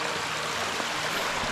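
A swollen backyard creek runs high after heavy rain, its steady broadband rush of flowing water filling the whole moment without a break, fairly close and even in loudness.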